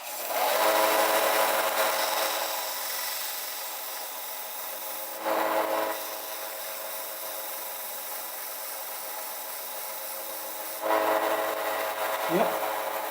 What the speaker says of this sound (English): So I'm actually scuffing the wheel.